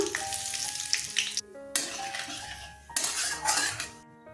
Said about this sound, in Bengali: শুকনো লঙ্কা তেজপাতা ফোড়ন দিয়ে দিলাম জিরে ফোড়ন দিলাম